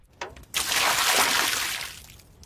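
Water from a bucket rushes out in one loud splashing gush of about a second and a half, preceded by a brief knock and fading at the end, with no speech.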